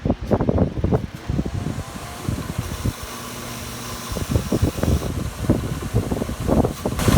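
A motor-driven wire wheel brushes metal screws in a workshop, the steady whine broken by bursts of loud, rough scraping contact that pause briefly midway.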